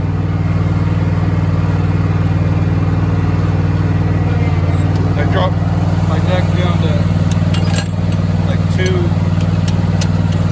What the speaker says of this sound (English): I come over to the end of it, and I drop my deck down to